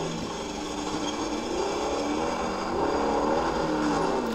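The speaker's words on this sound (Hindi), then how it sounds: "चलो गाड़ी का सीन भी आ गया आपके लिए" A car in the video game Call of Duty: Warzone drives along with a steady engine drone and tyre noise at moderate, fairly constant loudness, rising slightly toward the end.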